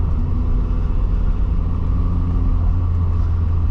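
A 1986 Volkswagen Scirocco 16V engine drones steadily while driving, a close, continuous low rumble from inside the car with no speech.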